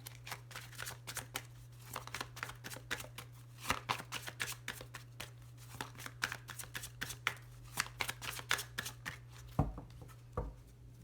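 A deck of tarot cards being cut and shuffled by hand, giving rapid soft riffling flutters and slaps in a quick irregular rhythm over a steady low hum, close up with no talking.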